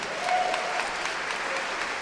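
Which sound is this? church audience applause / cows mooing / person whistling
church audience applause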